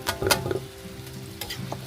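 Miso sautéing in a pan for a seafood sinigang, a soft steady sizzle with a few scraping stirs of a spoon near the start and end.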